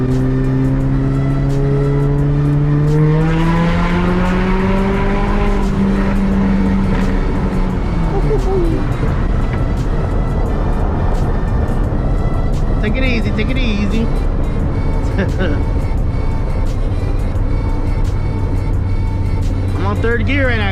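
A car accelerating hard through the gears on a street pull, its engine note climbing loudly and shifting, with someone talking over it; loud and close from inside the cabin.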